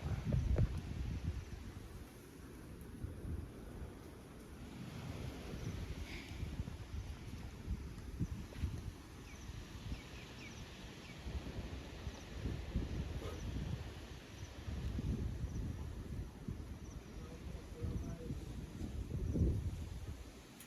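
A nighttime windstorm roars steadily around a house, with low, gusty rumbling that swells and fades over about twenty seconds and no talking.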